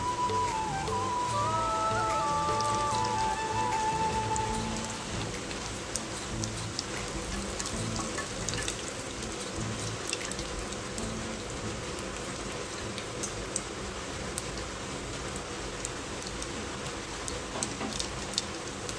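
A heavy downpour makes a dense, even hiss of rain with scattered drop ticks. A brief wavering tone sounds faintly during the first few seconds.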